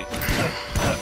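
Furniture smashing apart in the video game Rogue Legacy, two loud crashing breaks about half a second apart over steady game music, with no voices.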